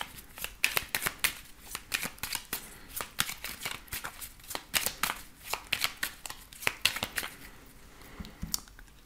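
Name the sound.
shuffling and cutting oracle cards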